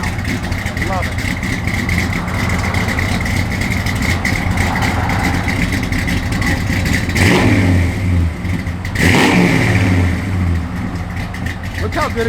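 A 1957 Chevrolet 210 engine through tucked exhaust pipes, idling with a rough, throaty note and then revving up twice in quick bursts, loud and close, with someone talking over it.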